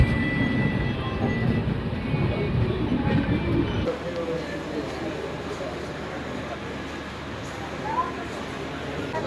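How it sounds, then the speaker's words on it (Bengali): A train pulls into the platform at New Jalpaiguri (NJP) station, a steady rolling rumble of wheels and carriages that drops and thins partway through, with faint background noise. "এনজিপি প্ল্যাটফর্মে ঢুকছে আমাদের ট্রেন।"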